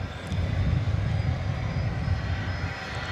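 An American Airlines Airbus A300 arriving from El Paso at Dallas Fort Worth airport gives a steady, moderately loud engine roar that holds evenly for a few seconds.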